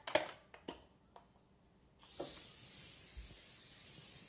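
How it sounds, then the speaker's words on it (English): A short hiss of cooking oil spray onto a cutting board starts midway and keeps going steadily, following a few sharp knocks and taps near the start. "I'm going to go ahead and just spray that"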